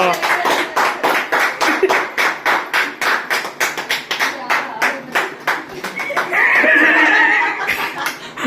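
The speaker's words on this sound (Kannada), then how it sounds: "ಚಪ್ಪಾಳೆ ಹೊಡಿರೋ." People at a parents' wedding anniversary celebration clap in a steady, rhythmic beat, loud and close, with some laughter and talking mixed in.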